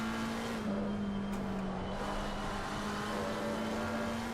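Porsche race car engine in a racing game at the Kyalami endurance event, a steady droning engine note held close and loud throughout, sliding slightly wide through a corner with a faint pitch shift.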